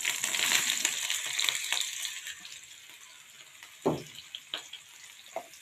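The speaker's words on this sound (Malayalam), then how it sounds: "നല്ലോണം നമുക്ക് വറുത്തെടുക്കാം" Soybean chunks sizzle in hot oil, a loud crackling hiss at first that settles into a quieter, steady frying, broken by a few sharp pops and spoon scrapes.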